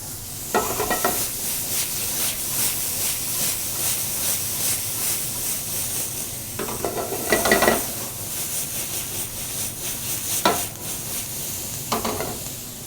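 Chopped garlic hisses in a hot pan with a steady, fairly loud sizzle, broken every few seconds by short scraping bursts from stirring.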